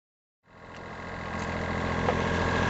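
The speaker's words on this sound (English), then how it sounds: "we're motor sailing up the west coast of the Isle of Man now" Sailing yacht engine running while motor sailing off the west coast of the Isle of Man: a steady droning motor rumble fades in from silence and holds a constant, close, even hum.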